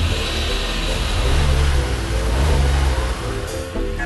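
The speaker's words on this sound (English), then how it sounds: "start the car" A car engine revs close by in two strong surges over a rumbling idle, with no talk.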